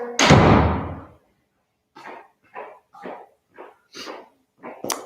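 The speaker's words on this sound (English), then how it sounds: "Closing all the doors." A door slams with a loud, booming bang that rings out for about a second in a home, followed by several quieter thuds and knocks spaced apart, ending in a sharper knock.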